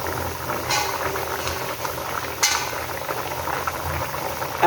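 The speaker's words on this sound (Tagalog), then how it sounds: "Aking binuksan, kumukulo na ang bangus" Milkfish (bangus) with carrots boiling in a pan, a steady bubbling and simmering hiss with a few faint clinks, close and continuous without speech.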